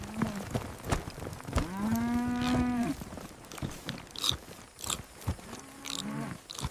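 Cattle lowing at close range, with one long drawn-out moo and a second fainter moo later, set against an outdoor grazing backdrop with scattered clicks and rustles.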